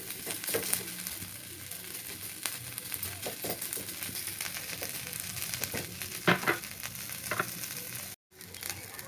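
Neem and curry leaves fry in hot oil with a steady, even sizzle throughout, broken by a few sharper crackles and soft spatula scrapes as the leaves are turned, and one brief dropout near the end.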